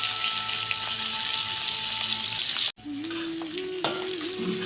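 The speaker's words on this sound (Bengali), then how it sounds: "ফাইনালি মাছ ভাজা শেষ।" Fish sizzling as it fries in a cooking pan, a dense steady crackle and hiss that cuts off briefly and resumes, with a faint tonal whine and clatter in the second half.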